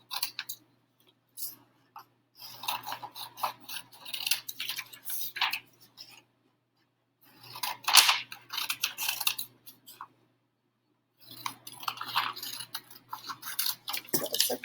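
Scissors snip through a paper sheet in bursts of quick crisp cuts separated by short pauses, close and clear with no talking.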